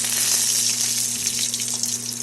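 Dried red chillies and black cumin seeds spit and sizzle in hot oil in a kadai, a loud, steady, close-up crackle with a faint low hum underneath and no voices.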